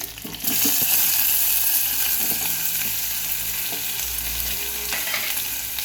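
Mustard seeds and curry leaves sizzle and crackle in hot oil as cooked bottle gourd pieces go into the pan, a steady loud frying hiss with stirring, no voices.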